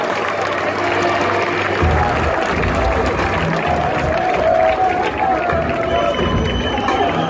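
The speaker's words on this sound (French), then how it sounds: "Yoann Carasso, on va l'applaudir bien fort." A large crowd at a Reims championship celebration applauds and cheers loudly and continuously, dense clapping mixed with shouting voices, with an announcer speaking French over the noise.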